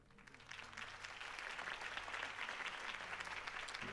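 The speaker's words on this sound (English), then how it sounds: "could have heard that applause" Sustained crowd applause in the video game Batman: The Telltale Series, a dense steady patter of many hands clapping, filling the whole stretch at an even, moderate loudness.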